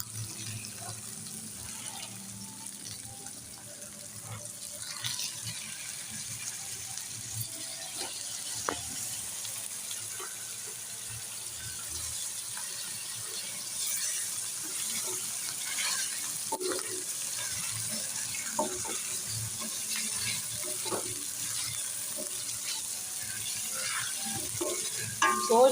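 Meat frying in a hot pan with fried garlic and ginger, a continuous sizzle with scattered stirring scrapes and utensil taps along with some watery bubbling, fairly close and steady throughout.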